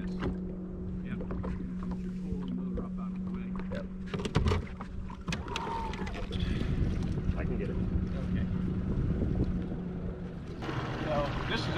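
A tow boat's motor drones steadily as it approaches on Kerr Lake during a bass fishing championship, with wind buffeting the microphone and water sloshing, growing fuller near the end.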